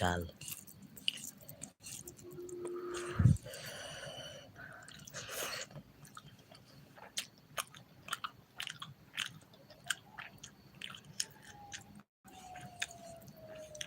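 Someone eats during a live stream, with intermittent close bites and chewing clicks spread through the clip alongside a few louder knocks and handling noises.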